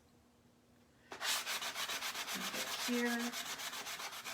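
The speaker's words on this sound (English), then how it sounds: "And then I have a sanding block. I'm going to sand that off a little bit." A hand-held sanding block rubbed back and forth over a painted wooden surface, steady rhythmic scraping strokes close up, after a quiet start with a brief spoken word.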